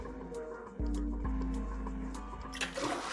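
A toilet flushes in the video game Zero Escape: 999, a sudden rushing surge of water that starts abruptly and keeps churning steadily, near and fairly loud, with no talking.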